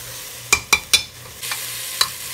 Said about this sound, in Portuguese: Aí vou colocar o resto do tempero de acordo com o que ele for selando aqui na panela.